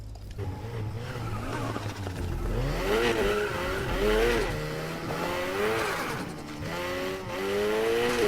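A tuned car in the video game NFS Heat drives with its engine revving up and down through gear changes, turbo flutter chattering between shifts, loud and close with no talk.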